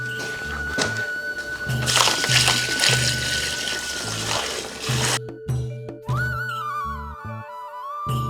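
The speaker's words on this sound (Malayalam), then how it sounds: "10 ലിറ്റർ വെള്ളം ചേർക്കുകയാണ്." About ten litres of water pour into a mixture of groundnut cake and neem cake, giving a rushing, splashing stream for several seconds over background music before it stops and the music continues alone.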